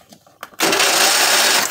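A Husqvarna YTH22V46 lawn tractor engine cranks over to flush old fuel through the pump: a few faint clicks, then a loud, continuous whirring grind that holds steady for over a second.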